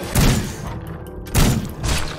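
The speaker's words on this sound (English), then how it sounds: "And we'll just start shooting him." Shotgun blasts fired at a zombie butcher boss in a wasteland survival video game, three heavy booming shots in quick irregular succession, loud and close with no talking.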